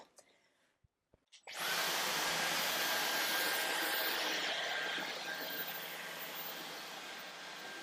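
A Dyson V15s Detect cordless vacuum cleaner starts up after a few faint clicks and then runs with a steady, loud, high-pitched whine and whoosh. The sound is close and fills the rest of the stretch on its own.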